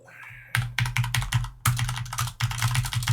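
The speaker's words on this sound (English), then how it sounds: "you just keep typing in the wrong password over and over again" A password typed on a computer keyboard in loud, close, rapid bursts of clattering keystrokes, with brief pauses between three runs.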